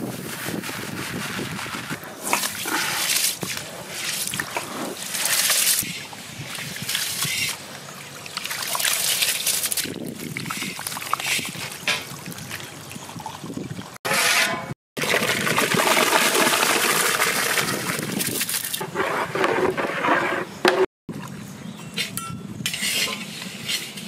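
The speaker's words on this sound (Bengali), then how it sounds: "চালটা ধুয়ে নেব।" Rice being washed by hand in water in a metal pot during a village lunch preparation, with steady sloshing, scraping and clinking against the vessel that pauses briefly twice, loud and close throughout.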